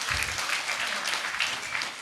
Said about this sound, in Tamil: அவங்களுக்கு மறுபடியும் ஒரு பெரிய கைத்தட்டல் கொடுத்துடலாமா?